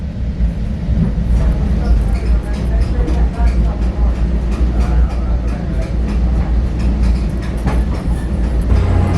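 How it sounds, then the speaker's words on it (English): A new Caltrain train at San Jose Diridon station gives a steady, loud low rumble with faint clattering and mechanical noise throughout, with no breaks in the sound. "New trains."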